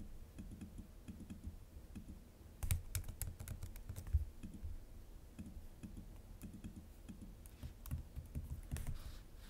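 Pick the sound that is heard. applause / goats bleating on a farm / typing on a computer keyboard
typing on a computer keyboard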